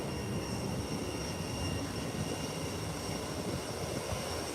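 A Gulfstream G5 business jet climbing away after a quick, early takeoff at an airport, heard as a steady, loud broadband engine roar with a faint high whine, continuous and unbroken throughout.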